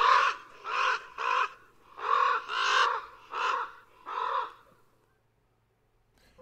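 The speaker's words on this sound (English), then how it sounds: "The little chuckly notes are a sort of short distance communication." A crow gives a series of seven short, raspy caws in irregular rhythm, fairly close and clear, each call a separate burst, followed by about a second of near silence.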